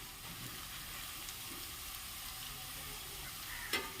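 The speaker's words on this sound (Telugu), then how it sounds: "మనకి ఉల్లిపాయలు అయితే వేగతం అయిందండి" Onions fry in a pan with a constant, moderate sizzle and occasional light scrapes from stirring, ending with a brief utensil clink.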